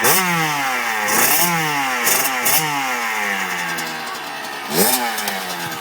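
A Kawasaki KX85 dirt bike engine revs up close and loud, with several sharp throttle blips rising and falling in pitch over a steady, buzzing idle.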